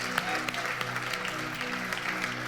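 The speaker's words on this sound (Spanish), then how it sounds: "Denle un aplauso al Señor y déselo a Juanita" A church congregation applauds for Juanita, a dense, steady round of clapping from many hands, close and full, lasting throughout.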